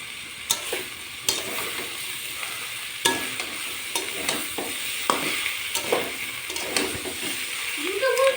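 Spinach fries in a pan for a Bengali greens dish while a spatula stirs it, making repeated scraping strokes over a steady, bright sizzle. No one talks.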